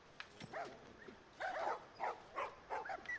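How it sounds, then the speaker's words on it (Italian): Dogs bark and yip in The Last of Us video game, a run of several short, fairly faint barks at moderate distance with no talk over them. "Cani."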